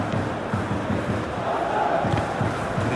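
Stadium crowd in a football video game builds anticipation before the match, a dense steady roar of many voices with rhythmic chanting pulses, loud and continuous.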